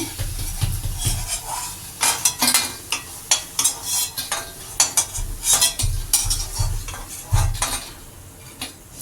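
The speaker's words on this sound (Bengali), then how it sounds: "দেখো এরকম লাল লাল করে ভেজে নিতে হবে বরফিগুলো" Gram flour barfi pieces fry in oil and are stirred in a pan, giving a steady sizzle broken by repeated close scraping and clinking of a utensil against the metal pan in an irregular rhythm.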